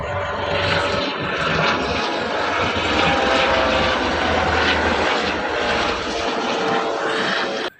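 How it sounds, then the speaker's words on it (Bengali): An airplane passes overhead, its engine roar loud and steady throughout before cutting off abruptly, with no voices heard. "দেখছেন সবাই প্লেনটা"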